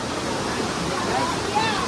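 Steady, roaring rush of Tanawan Falls in Dingalan, Aurora, Philippines, dense and continuous, filling the whole clip without pause.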